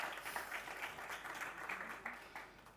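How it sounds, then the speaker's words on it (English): An audience at an African security conference claps in a brief round of applause, moderately distant, with scattered overlapping hand claps filling the room. "Get a hand clap every time."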